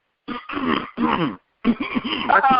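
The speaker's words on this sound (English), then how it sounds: "Why you gotta clear your throat like that?" Drawn-out, throaty throat clearing, voiced and gravelly, in two close bursts separated by a brief pause.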